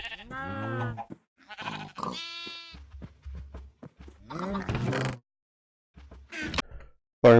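Sheep in the Minecraft video game bleat several times in short, clear, wavering calls separated by brief gaps, with some other game sounds between them.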